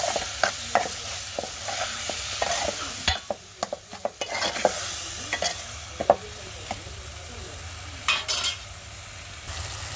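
Tomatoes and egg curry being stirred in a pan over a wood-fired stove, with an irregular series of sharp spoon scrapes and clacks over a steady background sizzle.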